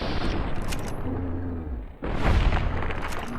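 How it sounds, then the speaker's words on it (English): A shotgun fires in the video game Fallout New Vegas, a sharp booming blast that cuts in suddenly partway through and is followed by a rumbling tail, with noisy game sounds around it. "That first shot didn't do much damage,"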